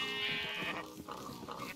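A Minecraft sheep gives a long, wavering bleat up close on a crowded modded farm, followed by softer overlapping calls from others.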